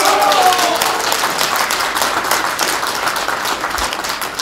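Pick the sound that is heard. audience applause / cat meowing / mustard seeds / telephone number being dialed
audience applause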